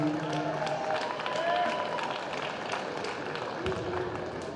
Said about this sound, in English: Let's give all those a round of applause, ladies and gentlemen.